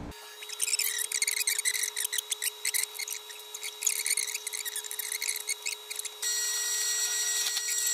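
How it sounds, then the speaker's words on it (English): A power drill grinds and drills into metal in rapid, stuttering bursts with a high metallic whine, then settles into a steadier buzz near the end, while making a step for a Farmall Super A tractor. "we're going to drill this again"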